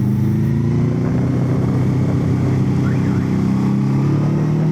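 Loud motorcycle engine running steadily with a deep, constant rumble, close and continuous without talk.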